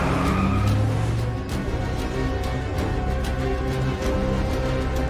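A car speeds through an action-film chase, its engine roaring and tires skidding, loud and close, with rapid shifts in pitch and brief squeals across the stretch.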